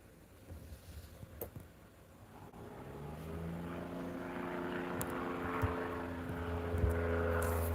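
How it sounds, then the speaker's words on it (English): Propeller airplane flying overhead outdoors, a faint drone that swells gradually and holds a steady hum with rising tones, with small knocks and clicks nearby and no speech. "Hear that guy out there in the plane?"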